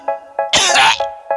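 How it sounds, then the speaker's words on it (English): A man coughs hard several times, a burst of sharp, raspy coughs near the mic, with one longer harsh hack in the middle and short gaps between, no talking. "I see a coughing guy."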